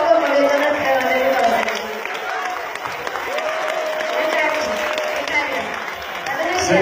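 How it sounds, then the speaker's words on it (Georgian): A concert audience applauds and cheers at length in a hall, the clapping steady and loud while a voice speaks over it. "თქვენი აპლოდისმენტებით შეგიძლია მითხრათ, როგორ მოეწონათ ტელადები"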